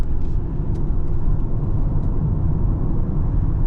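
A 2024 Lexus LM 350h hybrid accelerating with electric motor assistance, a steady low engine and road drone heard from inside the cabin with no sharp changes.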